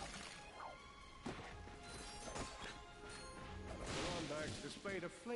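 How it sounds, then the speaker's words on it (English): Wooden crates smashed in the Ratchet & Clank video game, a run of sharp breaking thwacks and crashes amid busy game sound effects and music, with someone talking over it. "Look at him smashing crates."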